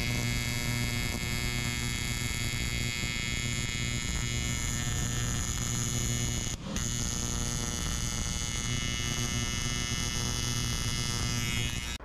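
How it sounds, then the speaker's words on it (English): Steady electric hum and buzz of a TIG welder running on aluminium sheet metal with a foot pedal, constant and close with a brief dip partway through, no talking. "Foot pedal comes in very handy when welding sheet metal, especially smaller pieces like this."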